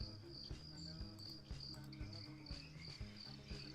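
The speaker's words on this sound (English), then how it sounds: "it's quite enjoyable to listen to the frogs and stuff" Frogs and crickets chirp together at night in a steady, dense chorus, with a repeating high insect trill running over low rhythmic croaking pulses.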